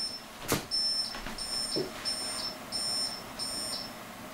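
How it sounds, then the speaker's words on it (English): Repeated electronic beeps from a Buffalo TeraStation Live HS-DH1.0TGL/R5 NAS, a steady pattern of short high tones about every half second over a background hum, with a couple of brief knocks. "Let me just see another kind of beep."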